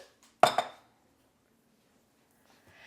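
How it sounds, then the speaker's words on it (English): A single bright clatter of dishware as a pecan baguette dish is plated, followed by near silence and a faint rustle at the end. "Let's go ahead and start to plate our dish here"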